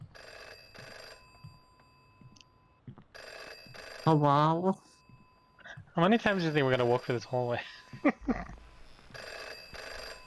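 An electronic telephone ringing in a first-person horror video game plays in repeated bursts between gaps, fairly loud, while a person talks over and between the rings.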